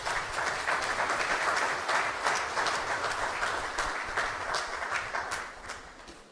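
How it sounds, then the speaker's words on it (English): Crowd applause at the opening of an energy, oil and gas summit in Suriname, sustained dense clapping from many hands, fairly distant and even throughout, with a slight fade at the end. "And let us applaud these investors also in Suriname."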